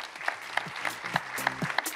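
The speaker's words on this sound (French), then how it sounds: "Sous vos applaudissements aussi" At an expo conference on future cities and territories, an audience gives a short burst of applause, with sparse individual claps over a hum of background murmur.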